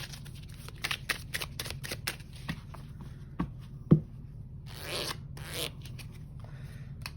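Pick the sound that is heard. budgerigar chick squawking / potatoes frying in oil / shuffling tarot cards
shuffling tarot cards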